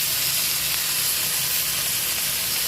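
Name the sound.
meat sizzling on a griddle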